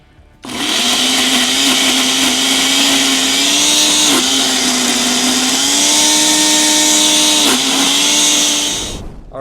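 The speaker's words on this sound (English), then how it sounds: "Get that all in the blender." A kitchen blender whirs loudly and steadily, blending a green avocado hot sauce; the motor holds a constant pitch with slight load shifts and two brief bumps, alone for about nine seconds before cutting off.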